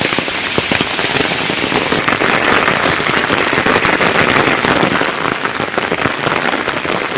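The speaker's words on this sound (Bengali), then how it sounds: "তো আশা করা যায় বৃষ্টি যেহেতু হইতেছে হইব।" Steady rain falling in a Bangladeshi village, a dense continuous patter of drops drumming loud and close on surfaces.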